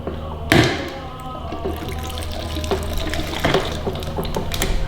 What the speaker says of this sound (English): just gotta pour some gasoline in here